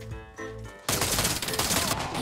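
Warface video game gunfire: a short stretch of in-game sound gives way to a sudden loud burst of rapid automatic weapon fire that continues steadily to the end.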